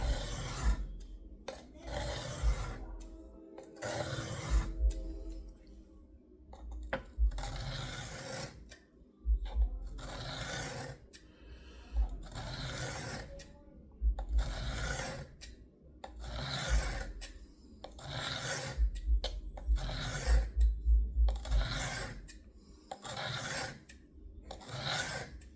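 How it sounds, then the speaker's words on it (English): Repeated strokes of a knife blade along an Amazon knife sharpener make rhythmic rasping scrapes in bursts separated by short pauses, loud and close throughout, with no one talking. "Sharpen right up to that tip."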